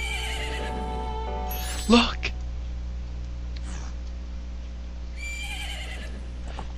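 A horse neighs briefly in Zelda: Majora's Mask, a sharp whinny near the two-second mark heard over a steady game-music bed, with a voice speaking just before it.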